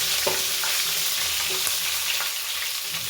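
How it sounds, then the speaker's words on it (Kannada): Green chillies sizzle in hot oil in a pan while a breakfast of rice vermicelli upma is cooked, giving a steady, close frying hiss with faint clinks of stirring. "ಅಷ್ಟೊತ್ತಿಗೆ ನಾನು ಹಸಿಮೆಣಸಿನ್ಕಾಯಿ ಹಾಕ್ಕೊಳ್ತಾ ಇದ್ದೀನಿ ನೋಡಿ."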